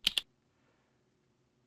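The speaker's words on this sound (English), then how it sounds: "Hold down the left control key and press the number 7 key on the number pad" Two quick, crisp key clicks close together on a computer keyboard number pad, followed by near silence.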